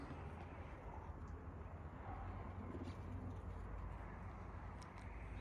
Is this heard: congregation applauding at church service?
no